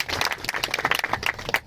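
Audience applause at a literary or cultural gathering, a close burst of clapping from a crowd, fairly loud, with individual claps standing out in an uneven rhythm.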